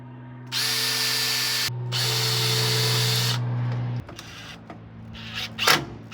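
A cordless power drill drives screws while a camper's outdoor kitchen is built, two sustained whirring runs at close range, then a lower, slowing spin and a short final buzz, with no speech.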